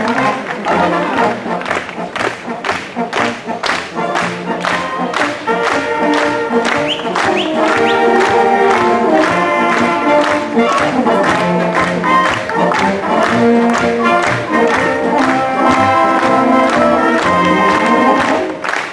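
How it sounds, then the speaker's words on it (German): Loud, sustained crowd applause mixed with a brass band playing at the 2019 Kronenfest festival in Augsburg, the clapping and brass continuing together throughout. "mit einem kräftigen Applaus und mit der Blaskapelle werden wir dich jetzt nach oben tragen"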